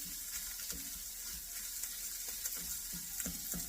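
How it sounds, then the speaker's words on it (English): Crumbled sausage frying in a pan, giving a constant close sizzle with faint scraping and clinks, and no talking. "as I was cooking the sausage, I just broke it up much like I would, and it's still cooking"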